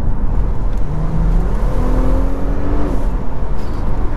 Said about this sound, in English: But because it's a six-cylinder, you just get that noise.